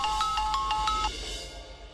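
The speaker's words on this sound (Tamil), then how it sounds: "இவன் எதுக்கு இப்போ ஃபோன் பண்றான்?" An incoming-call phone ringtone in a Tamil TV serial scene chimes in quick repeating electronic pulses for about a second, then cuts off, leaving quiet room tone.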